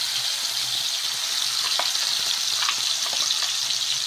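Ground paste with cumin and mustard seeds frying in hot oil gives a steady, close, bright sizzle with scattered small pops and crackles throughout.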